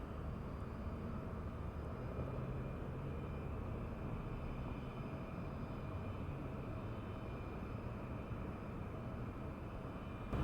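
A SkyWest Embraer jet airliner at San Diego airport, heard as a steady, distant broadband engine roar that holds constant and faint throughout, with no voices.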